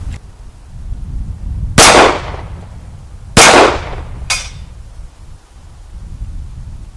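Three sharp gunshots from an H&K USP 9 pistol on a range, each a loud crack with a quick decaying tail, the second arriving about a second and a half after the first and a fainter third following closely.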